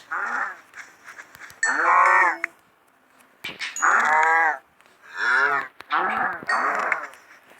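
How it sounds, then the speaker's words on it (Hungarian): Repeated cow moos from a Minecraft Skyblock game, several loud drawn-out calls in a row with short gaps between them and no talking over them. "és ölöm a tehenet"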